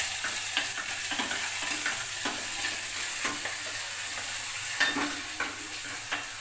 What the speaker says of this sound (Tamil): மண் சட்டியில் பச்சை மிளகா வதக்கிறது